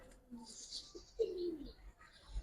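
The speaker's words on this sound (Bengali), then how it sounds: "ইউনিক কোয়ালিটির একটা চিলা কবুতর ভাই জোড়াই আছে" Chila pigeons, including a bronze Chila pair, give a soft low coo in the middle of the clip, with faint chirps above. The bird sounds are quiet and close by, and there is no talk.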